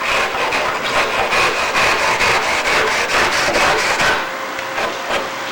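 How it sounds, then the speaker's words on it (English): A bent saw blade rides across an aircraft fairing, scraping off the moulded flashing in a quick run of regular back-and-forth strokes. The scraping is close and steady, then eases off near the end. "off the flashing with a bent saw blade, riding on the surface"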